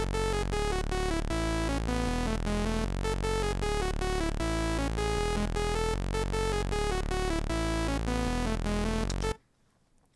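A bright synthesized melody plays over a steady bass line with rhythmic chord stabs, continuous and loud for about nine seconds, then stops abruptly.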